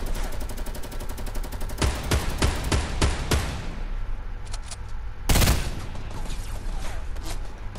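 Video game shotgun fire in a battle with jetpack players, a quick run of loud blasts followed by a heavy boom and faint distant shots, with no voices.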